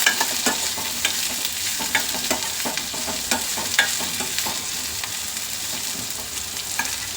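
Onions fry in a pan for a ridge gourd palya, a loud, close, continuous sizzle with frequent light scraping taps from stirring.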